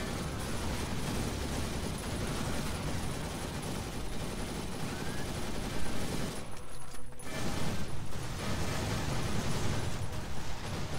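Dense, continuous gunfire in a zombie shooter game, a loud sustained fusillade with a short lull near the middle before the firing surges back even heavier.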